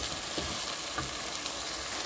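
Meat sizzles and crackles in a hot pan for an Ethiopian meat-and-vegetable dish, a loud, dense, continuous frying hiss with occasional stirring scrapes and no talk.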